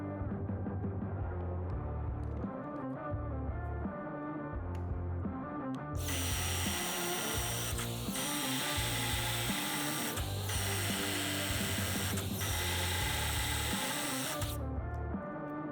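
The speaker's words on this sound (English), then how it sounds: "use this 1 inch spade bit, drill some holes in this 2x4" A Bosch impact driver spins a 1 inch spade bit through a 2x4, a steady whirring motor joined midway by loud, rapid rattling hammer impacts that continue with brief breaks before easing off.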